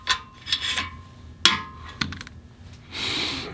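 A tool cuts the wear ridge from the top of an engine cylinder bore, giving a few sharp metallic scrapes and clicks, then a longer rasping scrape near the end, close and alone with no talk.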